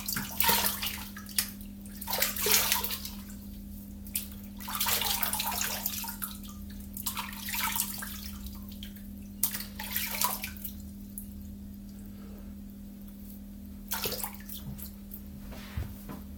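Water from a tap splashes in bursts as hands wet a face before a shave, uneven splashing surges separated by quieter gaps over a steady low hum.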